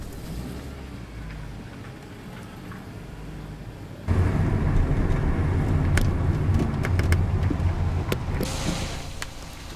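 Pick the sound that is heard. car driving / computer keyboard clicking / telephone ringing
car driving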